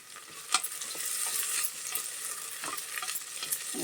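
Onion pieces, green chillies and bay leaf fry lightly in oil for a vegetable biryani, giving a continuous soft sizzle broken by the scrape and clink of stirring.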